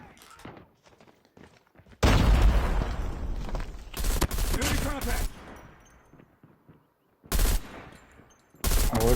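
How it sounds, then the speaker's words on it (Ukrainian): An M16 assault rifle in CoD: Mobile fires in short bursts of three to four rounds, loud and close, the bursts separated by quieter gaps with faint game sounds. "Вона не стріляє довгою чергою, вона стріляє такими короткими чергами."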